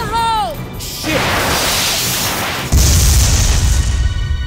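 A grenade goes off in the sci-fi shooter Binary Domain, a loud close boom with a crashing burst and a deep rumbling tail, after a brief shout.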